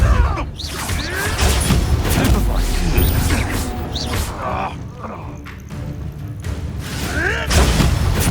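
In a cavern battle in Hogwarts Legacy, a Confringo blasting spell goes off amid clattering, creaking spell effects and thuds, with booming impacts and whooshing sweeps rising and falling over several seconds.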